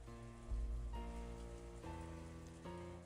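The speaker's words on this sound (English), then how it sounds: "left the overhang of the arbor, and walked out into the rain" Steady rain pours down in the Umineko no Naku Koro ni Chiru video game, a dense even hiss with a few soft surges and no voices.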